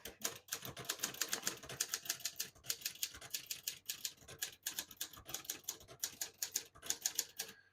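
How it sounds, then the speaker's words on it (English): A 1960 Hermes 3000 vintage portable manual typewriter typing with the red ink ribbon: steady, rapid clacking keystrokes in bursts with brief pauses, close and crisp, with no voices. "So we're going to use the red ink right now."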